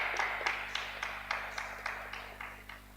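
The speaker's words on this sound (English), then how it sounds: "Round of applause." Scattered applause from a small hackathon audience, a few separate claps at a steady, unhurried rhythm, fairly faint and set back in the room over a low electrical hum.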